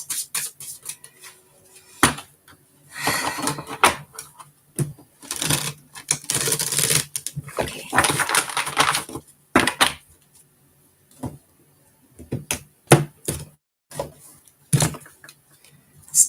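Tarot cards being shuffled by hand, irregular bursts of riffling and slapping card sounds separated by quiet gaps, close and crisp.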